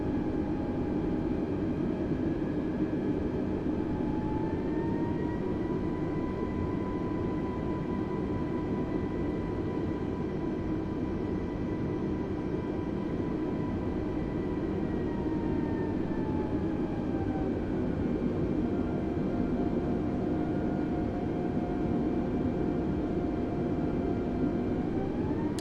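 FlyByWire A32NX airliner engines spooling up for takeoff in Microsoft Flight Simulator, a steady loud roar with whining tones rising in pitch, holding, then shifting, continuous and close throughout.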